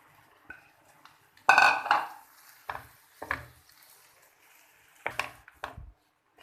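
Green chilies and potatoes are dropped into a pot for a potato pinwheel samosa filling, giving a few clattering thuds and scrapes of utensils against cookware in scattered bursts, close and fairly loud.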